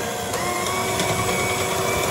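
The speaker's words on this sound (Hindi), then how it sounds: "विस्क से कर लें, और ये इससे कर लें, क्या कहते हैं, इलेक्ट्रिक बीटर से कर लें" An electric beater whirs steadily through tiramisu cream in a mixing bowl, a loud, continuous motor drone close up with no gaps, no one speaking.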